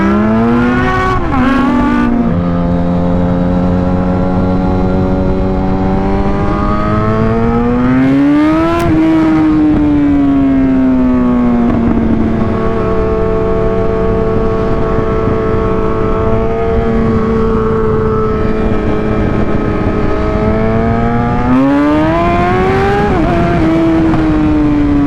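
A Yamaha R1 sport motorcycle engine revs loud and close, holding a sustained high whine that sweeps up and down in pitch, with sharp climbs near the start, the middle and the end, and no voices.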